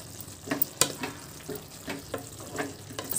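Capsicum and tomato curry cooks in a pan with a steady low sizzle and bubbling, broken by a few light clinks and stirring scrapes, close and moderately loud.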